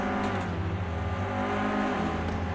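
A Clio Cup race car at Silverstone National in the Project Cars 2 sim roars on a steady, high engine note that holds loud and close through the whole stretch, with no talk over it.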